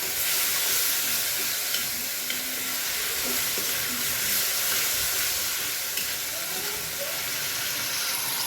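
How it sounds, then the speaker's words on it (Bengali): Cumin and ginger paste fries in a hot pan for a home-style fish curry, giving a steady, even sizzle and hiss that runs unbroken from start to end with no talking. "এবার সাথে জিরে আদা বাটা দিয়ে দিলাম, ভালোভাবে এবার ভাজতে হবে"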